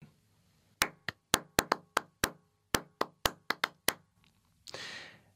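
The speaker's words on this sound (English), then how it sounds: "the only way you can get a sense of the beat I was clapping is by listening to the silent spaces of time between the claps" Sharp hand claps, about a dozen, struck alone in a steady beat with short silent gaps between them, followed by a brief breathy rustle at the end.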